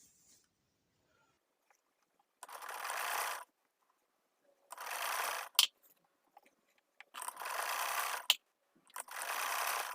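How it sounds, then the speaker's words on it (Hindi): A sewing machine stitches along a lace edge in four separate bursts of whirring, each a second or so long, with quiet pauses between them. "यहाँ पे मैं सिलाई लगा दूंगी।"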